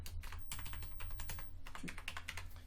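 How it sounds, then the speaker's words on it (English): A password is typed on a computer keyboard in a quick, close run of soft key clicks, with no talking. "I'm going to go ahead and type in my password"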